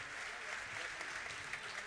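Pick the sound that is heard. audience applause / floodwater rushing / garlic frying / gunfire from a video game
audience applause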